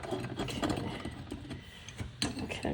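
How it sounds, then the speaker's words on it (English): A screw turns as a kitchen drain cover is fastened back in place, giving soft close scraping and ratcheting clicks in short, uneven bursts. "Okay, I'm just screwing the cover back in."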